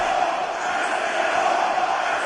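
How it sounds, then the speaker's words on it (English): A boxing arena crowd roars its appreciation after a round, a dense, sustained mass of cheering and shouting that stays loud and steady the whole time. "So the crowd voicing its appreciation"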